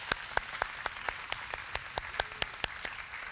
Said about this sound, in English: Big round of applause to the clarinet section.